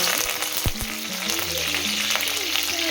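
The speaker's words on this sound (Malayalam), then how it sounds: "ഇതേ ടപ്പേ ടപ്പേ പൊട്ടിക്കഴിഞ്ഞേ" Mustard seeds crackle and pop in hot oil for a fish curry, a dense, close sizzle with sharp scattered pops throughout.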